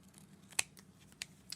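Scissors snip through playing cards in three sharp, crisp cuts, each a brief close click with quiet pauses between, no talking.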